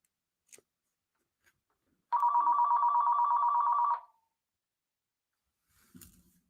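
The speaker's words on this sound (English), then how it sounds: "Someone's calling on the phone." A telephone bell rings once in a single steady electronic trill lasting about two seconds, loud and clear against near silence, with only faint clicks before and after.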